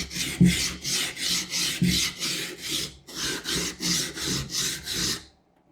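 Kitchen knife drawn in steady rhythmic strokes across a 200-grit whetstone, about a dozen close, even rasping passes with a brief pause midway, alone with no talk.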